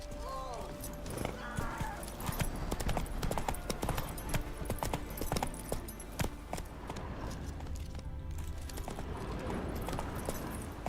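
Horse hooves clip-clop steadily at a walking pace in The Witcher 3, with busy game sounds, a brief whinny and a little talk layered over the rhythmic footfalls.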